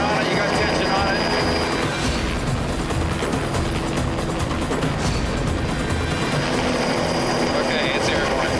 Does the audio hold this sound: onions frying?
no